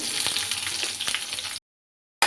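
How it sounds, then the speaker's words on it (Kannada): Onion and curry leaves fry in hot oil with garlic and popped mustard seeds, a steady close broadband sizzle that cuts out abruptly into silence, then briefly returns at the end. "ಕರಿಬೇವು ನೀರುಳ್ಳಿ ಒಟ್ಟಿಗೆ ಹಾಕ್ಕೊಂಡು ಚೆನ್ನಾಗಿ ಫ್ರೈ ಮಾಡಬೇಕೀಗ"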